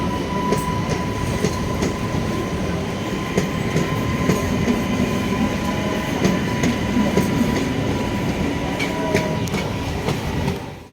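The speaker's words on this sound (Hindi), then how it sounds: "ये हावड़ा से धनबाद की ओर जाने वाले दोस्तों ब्लैक डायमंड एक्सप्रेस" Black Diamond Express running between Howrah and Dhanbad, with a steady, loud rumble of wheels on rails and a faint clickety-clack throughout, and no voices.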